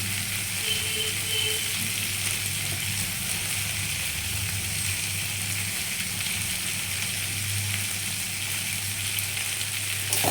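Potato and mung dal fry steadily in a pan, a continuous close sizzle with faint scraping as the mixture is stirred, no voices over it.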